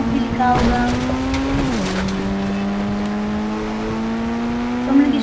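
A car drifts in a video game, its engine holding a steady tone that dips briefly and then climbs, while tire squeal runs under it.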